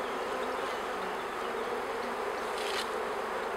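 Honeybees swarm around an open hive during a queen change, a dense, continuous buzz of many wings close by, with a few louder passes of single bees near the end, and no talking.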